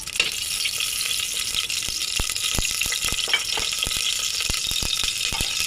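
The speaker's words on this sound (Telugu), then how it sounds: "ఫస్ట్ గీ వేసుకుందాం." Ghee sizzles in a pan at the start of a prawn biryani, a steady close frying hiss broken by sharp, irregular clicks and scrapes of a utensil against the pan.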